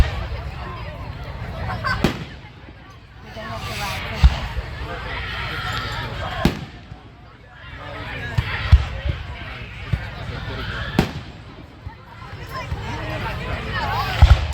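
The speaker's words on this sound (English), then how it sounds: "Probably like 5 more minutes of fireworks." Fireworks at a carnival on its final night, with scattered booming bursts every couple of seconds and crackling between them, under steady conversation from nearby spectators.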